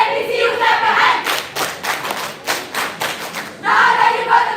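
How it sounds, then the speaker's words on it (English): Audience at a school debate event clapping hands in rhythm to a beat, a string of sharp group claps between stretches of shouting and cheering voices. "All you switch up and let me see you clap your hands."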